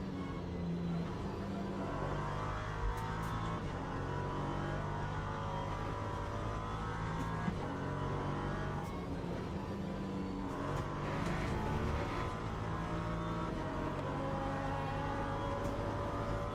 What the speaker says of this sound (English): Not looking forward to these LMP2s coming through.